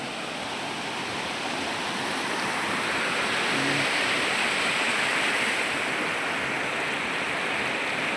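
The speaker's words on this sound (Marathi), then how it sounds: "पाणी वाहतंय इकडे." Water pours steadily past a large dam, a loud, continuous broadband rush that holds even throughout without pause or change.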